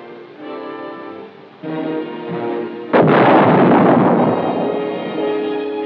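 A 1960s US Army gun firing combustible cartridge cases that burn up on firing lets out one loud blast that swells into a long rumbling roar over a steady background hiss.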